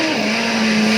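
A WRC rally car on snow tires skids and spins through a 360 at Rally Sweden, a loud, steady engine roar with a sustained tone, close and continuous throughout the short burst.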